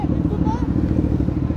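A Hayabusa motorcycle with a full exhaust system rumbles nearby, a loud, steady, deep pulsing engine note that continues throughout.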